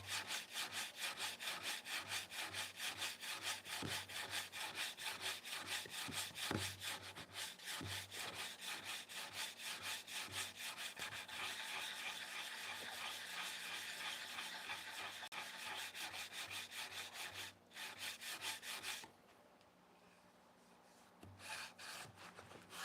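Pallet wood being sanded by hand along its length, a steady rhythmic rasping scrape with regular back-and-forth strokes, close and continuous for most of the time, briefly pausing near the end before resuming.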